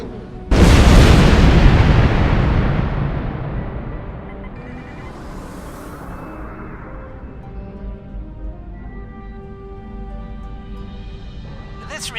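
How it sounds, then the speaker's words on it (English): A torpedo explosion blasting through a hollow asteroid in Star Trek Online, one loud sudden boom that rumbles and slowly fades into a low lingering hum. "If we blow through where the rock is thinnest, we can slip through without being detected."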